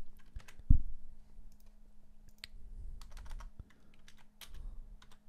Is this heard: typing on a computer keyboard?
yes